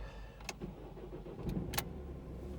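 A 2016 Vauxhall Astra SRi with a 1.6 CDTI 134 bhp diesel engine cranks and starts. A few sharp clicks come first, then a low engine rumble builds up close.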